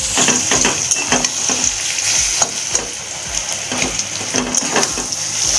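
A dough mixture with salt and sugar fries in a pan. Steady sizzling runs throughout, broken by repeated scraping and clicking as it is stirred, close and fairly loud with no talk.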